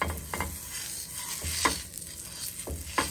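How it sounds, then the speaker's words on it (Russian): Pancake batter hitting a hot, potato-greased cast-iron frying pan over a high flame, giving repeated short bursts of sizzling and scraping roughly every second, fairly close and moderately loud, with no talking. "Жарю я на чугунной сковородке."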